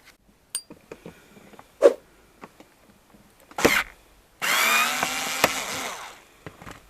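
A power screwdriver backs out Phillips screws inside a Land Rover Discovery or Range Rover Sport during a cubby fridge retrofit, with short motor whirs among small taps and handling clicks, then a longer sustained buzzing run.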